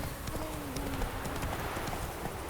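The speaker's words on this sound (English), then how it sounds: "Whoa there, Roach." Horse hooves trot in a steady clip-clop rhythm through The Witcher 3, running continuously with game ambience and faint tonal sounds behind.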